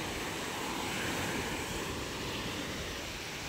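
Sea waves break and wash steadily onto a rocky shore at Tanza, Cavite, after a night of big swells, a constant dense roar with wind buffeting the microphone and no voices.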